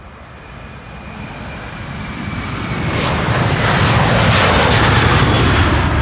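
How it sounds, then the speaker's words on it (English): Delta Airlines jet bound for Detroit at Amsterdam Schiphol Airport, a loud broad engine roar that builds steadily as it nears, alone without speech. "This is Delta Airlines flight 135 to Detroit,"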